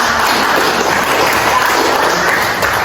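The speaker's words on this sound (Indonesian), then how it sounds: "mari kita sama-sama beri tepuk tangan" Classroom applause from students for three classmates' answers during a teaching practice lesson, a dense steady patter of clapping filling the room without a break.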